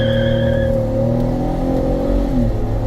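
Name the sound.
car accelerating hard with foot to the floor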